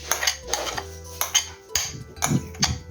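Potatoes mashed with a wooden masher in a pot with fried onion, giving repeated knocking and scraping thumps against the pot in an irregular rhythm, close and fairly loud with no talk.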